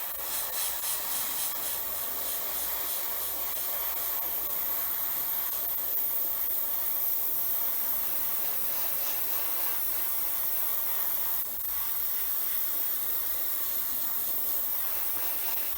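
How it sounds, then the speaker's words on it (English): Airbrush spraying paint onto a Bandai 1/72 X-Wing Starfighter model kit, a steady close airy hiss that runs continuously with only a brief dip partway through. "Trying to keep my overspray to a minimum down there so it doesn't take too much color to cover that up."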